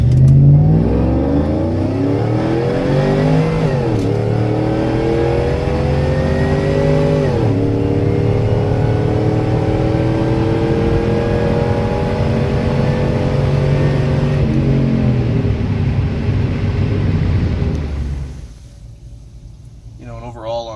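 A GMC Denali with a swapped-in LSA supercharged engine pulls away from a stop, loud and close, its engine note climbing through several gear changes before fading as it slows near the end.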